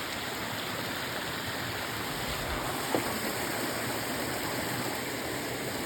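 A small waterfall beside the Appalachian Trail makes a steady, broadband rush of falling water that holds even and continuous throughout, with one brief faint knock partway through.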